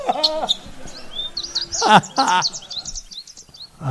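Red parrot squawk sound effect: a burst of harsh, harmonic squawks followed by a run of quick, high chirps and tweets, fairly loud and close, with no other sound behind them.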